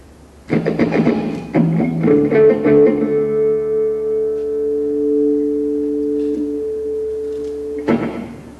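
Distorted notes on a Taylor T5 electric guitar plucked and left ringing, sustained tones with a short echo trailing off, then a fresh strum near the end.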